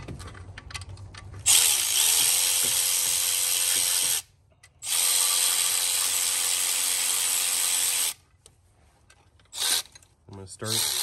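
Power tool running bolts on the alternator of an Audi 2.0T engine, in two long sustained whirring bursts with short bits of ratcheting and handling noise between and after.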